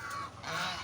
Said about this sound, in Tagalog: Di ba ito yung sa amin tawag sa Bisaya, gansa?